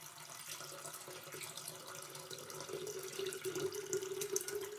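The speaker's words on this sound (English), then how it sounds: "Now let's pour some water into the kettle." Filtered water poured from a Brita filter jug into a Russell Hobbs illuminating glass kettle, a steady close splashing trickle that grows fuller and brighter toward the end, with no talking.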